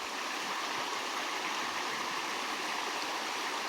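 A stream runs from a waterfall in a village, its water volume reduced, giving a steady, broad rushing hiss of flowing water at moderate distance with no voices.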